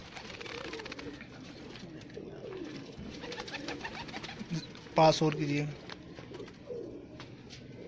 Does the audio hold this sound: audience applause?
no